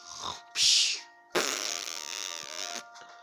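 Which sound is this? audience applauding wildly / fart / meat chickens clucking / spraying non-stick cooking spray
fart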